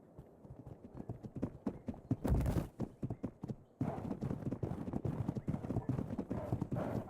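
A horse's hooves clop steadily on the ground in a video game, a regular walking rhythm, close but fairly soft, with a short burst of louder noise midway and no speech over it.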